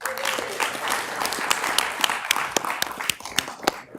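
Audience applause for parade winners at a city council meeting, a moderately sized crowd clapping with distinct individual claps standing out, tapering off toward the end.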